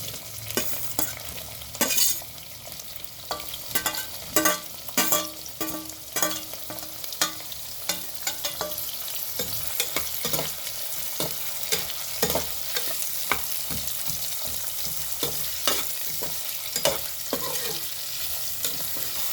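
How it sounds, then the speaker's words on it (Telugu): Chopped onions sizzle steadily in hot oil for a capsicum curry, with repeated scraping and clanking strokes of a spoon stirring the pan throughout, close and unbroken. "ఇప్పుడు ఉల్లిగడ్డ వేసుకుందాము."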